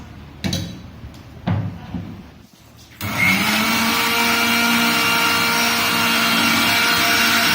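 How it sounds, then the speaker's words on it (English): An electric mixer blends aloe vera juice with lemon juice. A few knocks and clatters come as the jar is set in place, then the motor starts and holds a loud, steady, high whine to the end. "Now I will mix it in the mixer."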